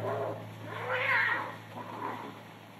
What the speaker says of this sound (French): il entend les feulements vengeurs des matous bagarreurs